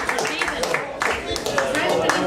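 Audience at a town culture night clapping for a singer, a steady patter of hand claps filling the room beneath a voice speaking over it.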